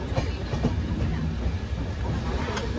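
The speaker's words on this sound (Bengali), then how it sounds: "2 মিনিটের হল্ট দিয়ে আমাদের ট্রেন বেরোচ্ছে কিষানগড় রেলওয়ে স্টেশন থেকে" A passenger train pulls out of Kishangarh railway station after a two-minute halt, heard from inside as a steady, close rumble with faint rhythmic wheel clatter.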